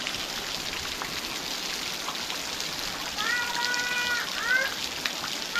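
Heavy rain falls in a continuous soft hiss, swelling slightly louder toward the end as a person speaks over it.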